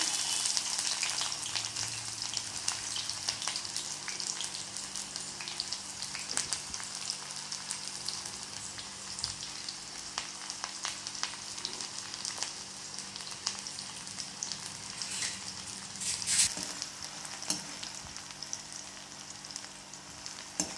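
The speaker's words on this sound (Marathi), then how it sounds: "आता मोहरी छान तडतडली आहे आता ते छान नंतर ह्याच्यामध्ये आपल्याला कांदा टाकायचा आहे" Onion sizzles steadily in hot oil with crackled mustard seeds, a dense continuous frying hiss with small pops and crackles throughout, close and moderately loud, with no voices.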